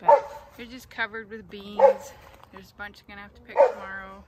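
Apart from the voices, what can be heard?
neighbor's big dog barking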